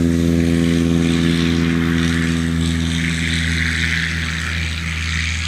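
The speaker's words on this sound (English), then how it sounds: "Very smooth takeoff for Judson Brandt." A backcountry propeller airplane takes off at a STOL competition, its engine droning loud and steady throughout with a strong harmonic buzz and no voices.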